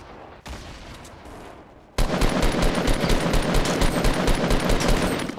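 Rapid automatic gunfire in a Fortnite Battle Royale fight, starting faintly and then bursting loud and dense, a sustained rattle of shots that continues without pause.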